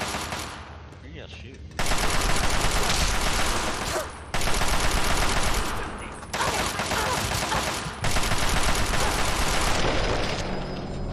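Dense, continuous automatic gunfire and explosions from the video game Fallout 3 during a battle at Anchorage against turrets, loud and sustained in long bursts with little pause.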